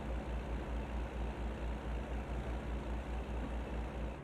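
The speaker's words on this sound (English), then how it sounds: "we just bought this Kenworth the other day" A Kenworth truck engine in American Truck Simulator idles with a low, steady, pulsing rumble, close and even in level for the whole stretch, with no talking.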